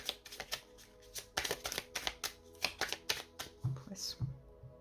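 Tarot cards shuffled and drawn for a Pisces reading, giving a run of soft, close flicking and snapping card sounds with a few brief taps, while a voice murmurs faintly underneath.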